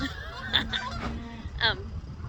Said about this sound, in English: bunch of Canadian geese flying right overhead